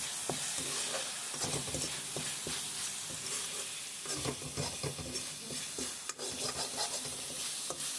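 Pointed gourd and potato curry being stirred in an oily pan, a steady sizzle under repeated scraping strokes of the spoon, close and continuous with no talking.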